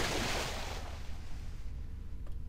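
Simulated water waves in Minecraft with the MAtmos sound mod as the player enters water, a loud, steady wash of surf and wind that eases off slightly after the first second.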